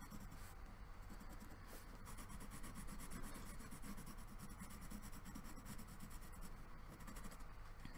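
Colored pencil, a fairly hard Kanoko Egusa Christmas coloring pencil, rubbing steadily across paper with a continuous close scratchy scribble that holds even level throughout, with no talking.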